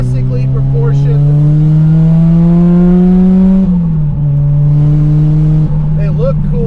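A 450 HP ATS Racing 1990 Lotus Esprit SE engine revs loud and close, its tone climbing steadily then dropping and holding at a high drone, with someone talking over it.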